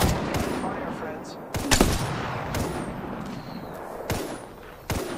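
Rapid gunfire from a player's weapon in an online battle royale shooter, sharp cracking shots in quick bursts over dense background game noise, loud and close.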